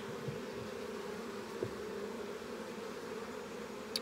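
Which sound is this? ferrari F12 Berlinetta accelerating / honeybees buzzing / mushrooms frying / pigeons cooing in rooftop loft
honeybees buzzing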